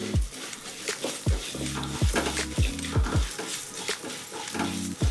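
Cumin and coriander seeds dry-frying on a low flame for vangibath spice powder, a soft continuous sizzle broken by repeated scraping stirs of a spoon against the pan, close and steady with no talking.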